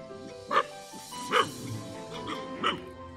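Dogs in a village setting barking, three or four sharp barks spaced about a second apart, moderately close, over a quiet background with faint low rumble.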